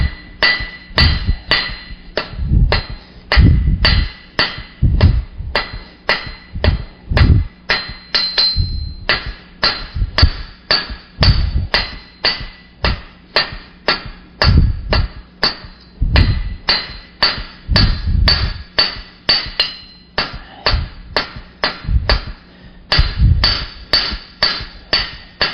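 Hot steel being forged into a taper takes steady hammer blows, a rapid ringing rhythm of loud, close strikes repeated throughout, with brief pauses between runs of blows.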